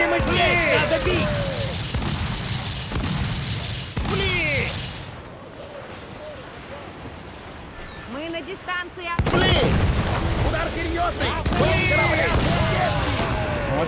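Repeated booming cannon shots and crashes from a naval battle in Assassin's Creed IV: Black Flag, loud and irregular, with someone talking excitedly over them.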